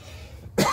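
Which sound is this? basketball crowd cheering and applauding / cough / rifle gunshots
cough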